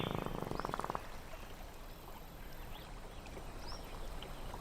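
A male frog calls loudly, its buzzing call amplified by a bulbous snout, a rapid pulsed burst near the start, then fading into quieter background croaks and ambient noise.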